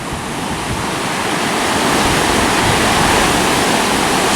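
Steady, loud sea surf breaking on the shingle shore at Freshwater Bay, Isle of Wight, heard as a continuous broadband wash with no voices.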